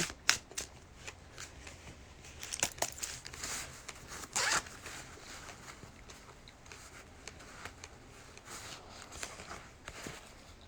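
Playing cards being shuffled and riffled close by, with papery flutters and snapping bursts scattered over about ten seconds, quiet overall, with faint rustling between the bursts.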